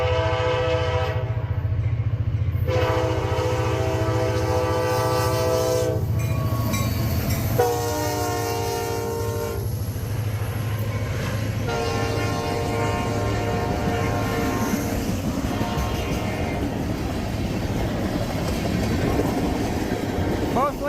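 Wheeling and Lake Erie freight train 5411 rolls past near East Palestine, its horn sounding in repeated long blasts over a steady rumble and clickety-clack of railcars, with a voice speaking in the background.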